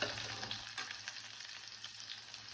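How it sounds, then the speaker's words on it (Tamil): Onions sauté in a pan for a radish and dry fish curry, giving a steady, faint hiss of frying with light stirring noises. "நல்லா வதக்கிடலாம். வெங்காயம் நல்லா வதங்கணும்."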